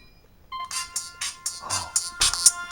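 A ViewSonic V500 mobile phone ringtone chimes in quick repeated bursts, busy and bright, fairly loud and near, with no talking.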